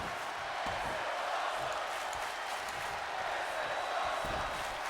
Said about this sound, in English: And the crowd is eating that up.